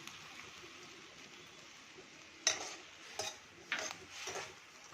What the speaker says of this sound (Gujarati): હવે એમાં નાખીશું આપણે બે કપ દૂધ એને પણ મિક્સ આપણે કરી લઈએ